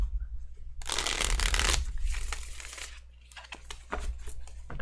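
A deck of tarot-style cards being shuffled by hand in a small space: one loud, close riffle of a second or so, then softer shuffling and a few light taps and slides of cards.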